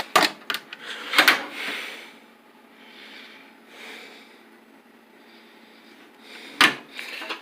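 A drawer in a metal tool box holding electrical tools slides open, with a few sharp clanks and rattles at the start, softer sliding rubs in the middle, and another clack near the end.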